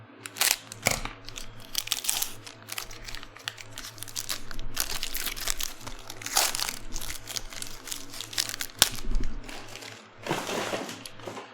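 Foil wrappers on Donruss Basketball hobby trading card packs crinkle and tear as they are opened one after another, with close, busy crackling bursts and brief pauses between them.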